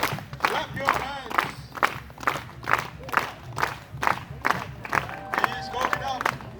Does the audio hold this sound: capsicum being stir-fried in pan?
no